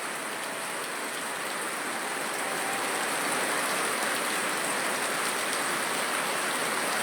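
Heavy summer rain pours steadily in Neyyattinkara, Kerala, a dense, even hiss of drops on surfaces that holds loud and unbroken throughout.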